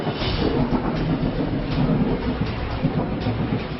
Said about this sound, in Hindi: मई के इस महीने में आसमान से बारिश की ये बूंदें राहत बनकर बरस रही हैं